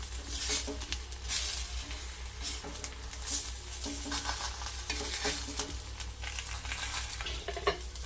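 Fish frying in a banana leaf in a pan gives a steady close sizzle, with a few clattering scrapes and knocks as the pieces are turned over, and no voices.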